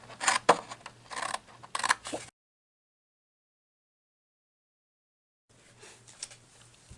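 Scissors snipping through paper to cut out a traced cup sleeve, a few quick close crisp cuts, a long silent gap, then fainter cutting resuming.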